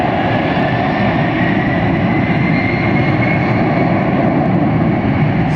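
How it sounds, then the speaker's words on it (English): A Boeing 757 jet starting its takeoff roll at Hartsfield-Jackson airport, producing a loud, steady, broadband engine roar that holds without a break. "It's a Boeing 757."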